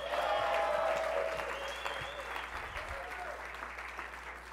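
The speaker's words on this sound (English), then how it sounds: "somebody wanted to clap for that" An audience at a political speech to a rights organization applauds steadily, loudest at the start and gradually thinning, with a few voices calling out over the clapping.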